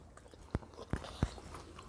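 Three crisp bites into a cheese stick, close and distinct, spaced about a third of a second apart in a quiet room.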